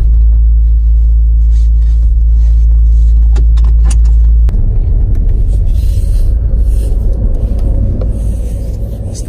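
A Toyota Auris on a test drive after a gearbox replacement: loud, steady low road and engine rumble inside the car, shifting to a rougher, busier drone partway through.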